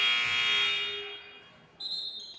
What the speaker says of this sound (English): A buzzer stops play.